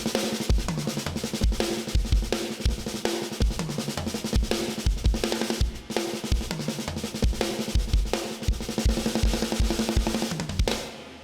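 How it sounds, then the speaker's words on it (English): A driving eight-bar drum break from a song, played on a full kit: punchy kick and snare hits under constant bright cymbal wash, loud, busy and steady from start to finish. "we've got this 8-bar drum break before it goes back into the chorus"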